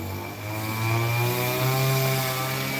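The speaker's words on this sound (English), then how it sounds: "whippersnipper." A whippersnipper (string trimmer) runs steadily nearby on a morning street walk in Thailand, its buzzing engine drone holding continuous with a slight swell in loudness, no voices over it.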